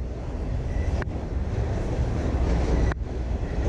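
Train rolling past a creek during a fishing outing, a steady loud rumble with wind buffeting the microphone, sustained throughout with two brief dropouts.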